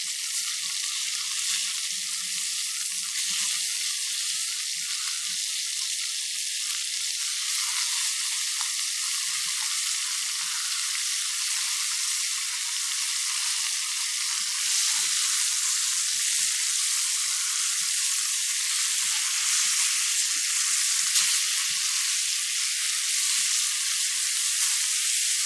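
Duck breast frying skin side up in a pan, a steady bright sizzle that holds for the whole stretch, with soft occasional spits and no voices.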